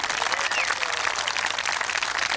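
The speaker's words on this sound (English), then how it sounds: "So they deserve a real round of applause." Sustained crowd applause for three young men from Cork at an outdoor sponsored walk gathering, dense and steady clapping throughout with no talk over it.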